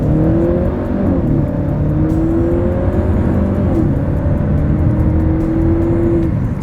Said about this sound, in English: let's see how quickly we can get our new 2026 Volvo V90 Cross Country here up to speed